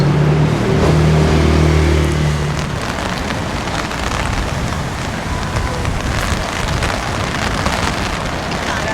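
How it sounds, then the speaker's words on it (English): Steady heavy rain pours onto a Hong Kong street, a dense, loud wash of hiss and spatter, with a low engine hum underneath for the first couple of seconds. "Maybe we'll get lucky and the rain will just stop"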